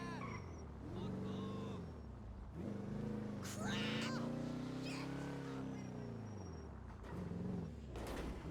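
Car engine in GTA NoPixel revving with rising and falling pitch as the car reverses and slides into a drift, loud and continuous with tire noise.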